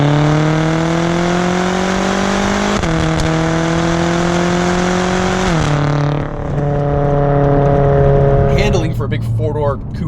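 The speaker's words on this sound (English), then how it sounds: "You still have that V8 rumble, it still sounds incredibly good." BMW M6 Gran Coupe with a turbocharged V8, droning steadily from inside the cabin as the engine pitch climbs and drops through gear changes, with a voice speaking over it.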